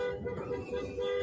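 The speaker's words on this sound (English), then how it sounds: "Sitting in the street, beeping her horn." A car horn sounds in a steady, sustained honk under a voice speaking, with traffic noise faintly behind.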